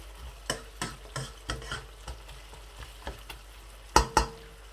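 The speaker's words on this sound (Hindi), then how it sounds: "हल्की आंच पर पकाना है ताकि प्याज जल ना जाए जल्दी" Onions fry gently over low heat in a pan while a spoon stirs them, giving a quiet sizzling bed broken by regular soft scraping taps and two sharper knocks near the end.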